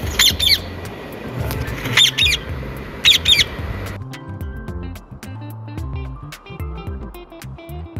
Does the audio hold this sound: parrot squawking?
yes